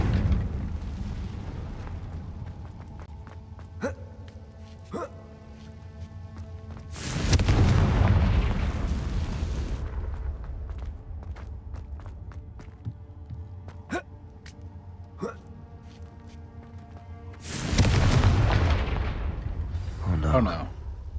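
Confringo fire spell blasts in the Hogwarts Legacy video game: two loud, roaring bursts with rumbling low end, separated by about ten seconds, over a steady background of game music and sharp clicks.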